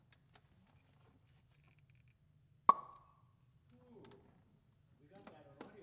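A wine bottle is uncorked with a single sharp, close pop, followed by a brief ringing decay in an otherwise quiet room, with some faint speech-like sounds afterward.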